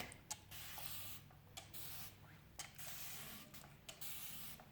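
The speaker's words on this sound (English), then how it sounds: "And so I'm just going to spray it, I lightly mist it." Several quick, faint spritzes from a spray bottle lightly misting water onto hair, evenly spaced over a soft background hiss.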